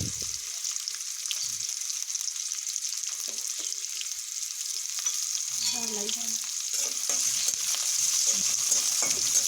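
Hilsa fish with mustard greens sizzles steadily in a pan, a continuous hiss of frying oil with soft scraping and stirring sounds now and then, growing slightly louder toward the end.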